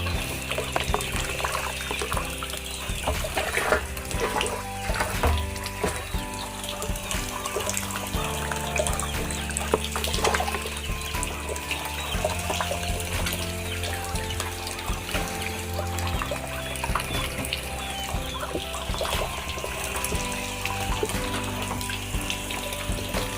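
Water running in a forest setting, a steady broadband rush flowing continuously with no pauses, fairly loud and close, with no voices over it.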